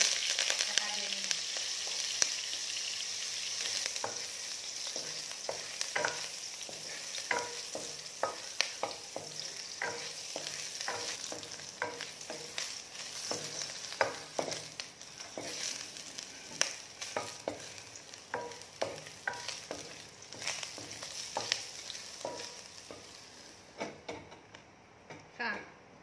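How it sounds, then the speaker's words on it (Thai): Shrimp frying in a pan with oil, a steady bright sizzle punctuated by frequent clicks and scrapes of stirring, close up, fading near the end; someone speaks over it at times. "ทอดกุ้งแค่สาม กุ้งเราจะมีน้ำนะคะลงมา"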